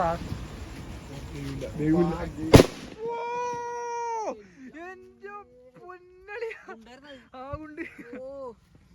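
Vishu fireworks and firecrackers: a rough, crackling rush builds and ends in one sharp, loud bang, followed by high, wavering voices calling out over a quiet background.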